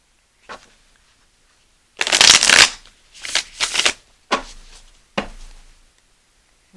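A deck of tarot cards gets shuffled up close in several quick riffling bursts, each a crisp flutter lasting under a second, with short quiet gaps and soft handling sounds between them.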